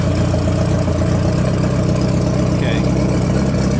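Honda Goldwing motorcycle engine idling steadily after being started cold, a low continuous rumble close by with a brief higher whine midway.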